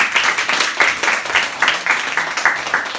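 Audience clapping at an acoustic violin performance, a steady dense patter of many hands at fairly close range, without speech.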